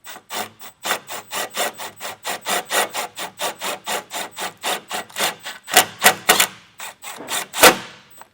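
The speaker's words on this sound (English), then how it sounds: "Now I'm just going to come through with a self-tapper." A self-tapping screw is driven into a pilot hole in a metal mount on a 2025 Chevrolet during a brake system install, giving a fast, even train of about thirty rasping bursts, louder near the end.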